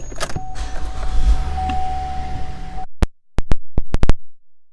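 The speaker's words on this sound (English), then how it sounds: "Power moonroof." Power moonroof on a 2015 GMC Acadia SLE, a smooth steady electric motor whine heard from inside the cabin that runs for a few seconds, followed by a quick series of sharp clicks.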